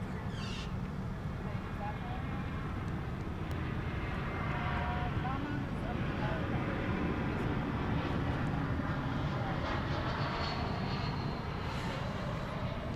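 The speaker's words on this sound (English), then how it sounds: "an Airbus A321, flight 1228, coming in from Los Angeles" An Airbus A321 on approach to land at DFW Airport at night, a steady broad engine roar that holds at constant loudness throughout, heard from a distance with faint voices in the background.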